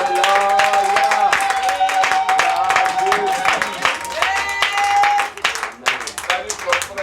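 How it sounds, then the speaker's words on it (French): A church congregation claps and cheers for the Lord, dense rhythmic clapping with voices and singing mixed in, loud and lively, dropping briefly near the end. "Acclame encore très fort le Seigneur."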